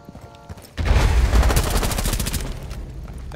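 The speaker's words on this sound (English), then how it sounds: "There's someone shooting." Gunfire in the video game Rainbow Six Siege, a loud rapid burst of automatic shots starting abruptly and rattling on for a couple of seconds, close and alone.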